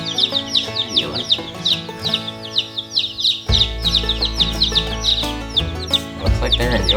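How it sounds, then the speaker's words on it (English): Young chicks chirp in a rapid, busy stream of high peeps, close and continuous, with low hum and occasional clucking underneath. "Alright, little chickies."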